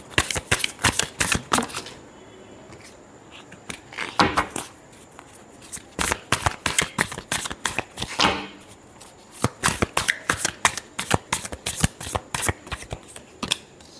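Tarot cards shuffled by hand in quick bursts of crisp riffling and slapping, close and clear, with short pauses between rounds.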